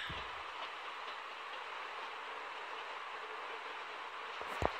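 A moving train in the video game The Walking Dead, giving a continuous rumbling rush with a sharp knock near the end, no speech.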